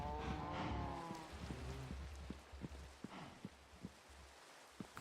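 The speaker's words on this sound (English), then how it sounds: "Raining." Rain falling in a Minecraft survival world, a soft steady patter with scattered louder drops, faint and continuous in the background.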